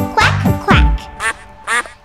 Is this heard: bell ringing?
no